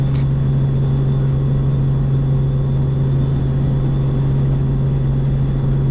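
A wheel-less helicopter hover taxiing, its engine and rotor producing a loud, continuous close-up drone with a strong steady hum and no pauses.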